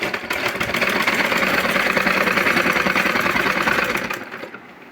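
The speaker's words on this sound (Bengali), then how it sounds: "এভাবে করে সেলাই দিয়ে যেতে হবে" A sewing machine stitches a hijab in one dense, continuous rattling run up close, cutting off abruptly near the end.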